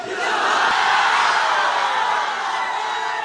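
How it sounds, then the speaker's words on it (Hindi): A large crowd at a political rally roars out a chanted slogan in unison, a loud, sustained collective shout that swells and holds steady for a few seconds. "तो हमारे साथ नारा लगाइए, नारे तकबीर, नारे तकबीर"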